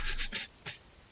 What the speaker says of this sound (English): I didn't realize it was breathing into my mic